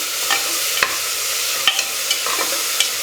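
Ground paste with onions is stir-fried in a pan, a soft steady sizzle broken by sharp scraping clicks of a spatula at irregular intervals, close by, with no one speaking.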